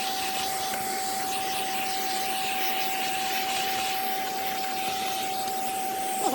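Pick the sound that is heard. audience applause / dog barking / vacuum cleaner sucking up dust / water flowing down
vacuum cleaner sucking up dust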